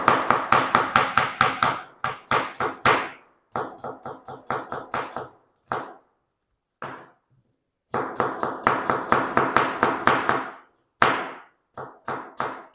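Medium-sized onions being chopped with a knife on a cutting board, bursts of rapid, even, crisp knocks with short pauses between runs, close and clear with no talking.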